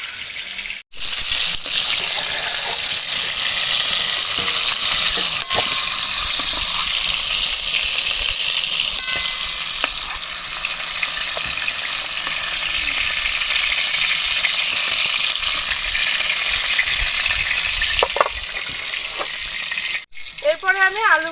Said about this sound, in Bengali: এরপরে আমি আলুগুলো ভেজে নেব।